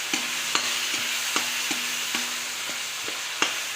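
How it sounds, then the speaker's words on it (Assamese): A spoon stirs egg curry frying in a pan, scraping in irregular knocks over a steady low sizzle, close and moderately loud with no voices. "এতিয়া আকৌ অকণমান লৰাই দিছোঁ"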